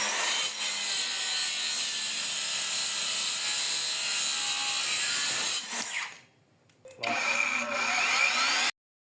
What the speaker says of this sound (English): Now we try to cut Meranti wood